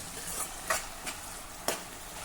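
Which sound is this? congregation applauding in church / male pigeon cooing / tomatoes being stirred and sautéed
tomatoes being stirred and sautéed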